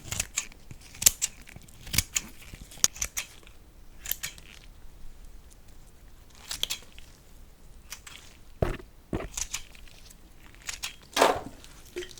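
Scissors snip thorns one by one off flower stems at a florist's workbench, giving a series of crisp, close cuts at an irregular pace with quiet pauses between them and no talking.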